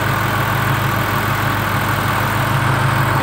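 A car engine idles with the air conditioning on and the vacuum idle-up not pulling, so the whole engine shakes. It is a steady, close, continuous low rumble with a constant vibrating drone and no talking.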